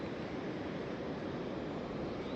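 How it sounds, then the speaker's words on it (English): Creek water rushing through a canyon below a waterfall, heard from an overlook: a steady, broad roar with no breaks, fairly loud and even throughout, with a light rumble of wind mixed in. "you can hear the creek down there rushing away"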